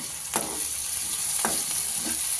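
Finely chopped green chillies fry in a pan for a samosa filling, making a steady close sizzle broken by three quick scraping stirs.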